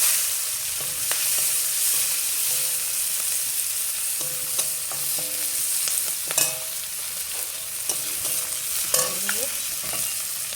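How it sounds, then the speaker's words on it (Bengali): Onion and chili hit a hot pan with a steady frying sizzle, and a spoon stirs and scrapes through them in scattered clinks and knocks. "গরম হয়ে গেছে, এখন দিয়ে দিলাম পেঁয়াজ লঙ্কাটা।"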